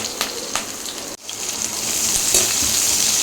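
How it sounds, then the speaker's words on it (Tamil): Onion sautéing in hot oil for a mutton dalcha, a dense rain-like crackle with scattered pops, briefly cut off before the loud hissing sizzle returns even stronger. "ஆனியன் கொஞ்சம் சாட் ஆகட்டோங்க"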